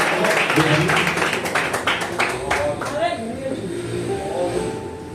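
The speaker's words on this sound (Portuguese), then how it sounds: "Aplauda Jesus mais uma vez." A church congregation applauds together, a dense wash of clapping that fades over a few seconds while people talk over it and a voice carries on speaking.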